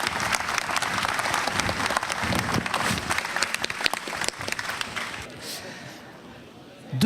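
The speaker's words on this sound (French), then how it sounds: "vous pouvez l'applaudir." An audience claps steadily for a retiring employee at a company's 30th anniversary celebration, a dense burst of applause that fades toward the end.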